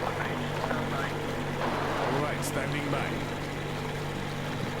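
A boat engine in the Metro Exodus video game runs as a steady low drone with a constant hum throughout, while someone speaks briefly over it.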